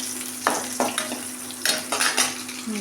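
Small shallots frying in a pan for a village-style kuzhambu, with a low steady sizzle broken by several sharp scrapes and clinks of a spoon stirring against the pan.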